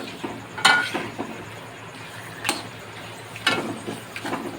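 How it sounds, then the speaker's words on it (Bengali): Papad (poppadoms) fry together in hot oil, giving a continuous soft sizzle punctuated by three sharp crackling bursts as they are stirred or turned in the pan. "পাঁপড়গুলো এমনি করে একবারে ভেজে নেবেন"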